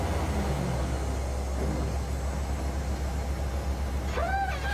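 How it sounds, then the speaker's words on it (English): A motor grader drives along an unpaved road with a steady, continuous engine rumble that stays constant throughout, with no voices. "the grader around for a pass down the other side of the road"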